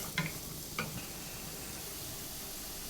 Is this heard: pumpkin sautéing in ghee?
yes